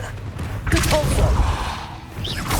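A Repulso spell cast in the video game Hogwarts Legacy, heard as a sudden burst of magical energy with a thudding blast and a sweeping whoosh, loud and close. A brief vocal sound sits among the effects.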